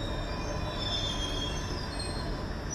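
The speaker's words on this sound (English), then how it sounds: "On August 20th, this train pulled into the UK's Reading train care depot." A battery-powered train pulls into the Reading train care depot in England, wheels squealing steadily on the rails with a continuous rolling rumble, loud and close throughout.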